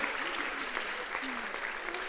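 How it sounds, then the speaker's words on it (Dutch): Steady, dense audience applause at a European church convention, continuous and fairly distant across the whole stretch, with a voice faintly heard underneath. "Let's give them a good applause"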